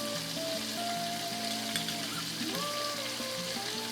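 Red pepper and basil sautéing in a hot pan give a steady, even sizzle that runs the whole time beneath background music with a melody.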